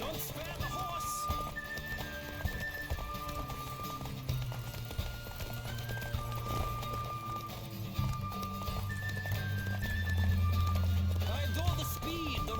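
Galloping horse hooves from The Witcher 3 drum in a steady clip-clop rhythm beneath an orchestral score, with a voice speaking over the ride.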